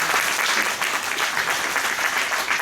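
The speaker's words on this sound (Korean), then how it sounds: "예, 큰 박수." Audience at a book launch policy event for a public-finance book breaking into steady, dense applause for a few seconds.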